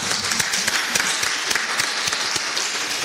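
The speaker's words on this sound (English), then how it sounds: "An official hand of applause" Audience at an international academic conference applauds after a presentation, a continuous patter of many hands with a few louder individual claps standing out, moderately close in the room.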